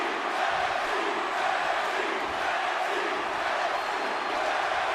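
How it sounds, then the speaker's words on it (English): A packed wrestling arena crowd in WWE 2K roars and cheers steadily, a dense, continuous wall of voices with no breaks, loud and sustained throughout. "Listen to this crowd. They're all on their feet."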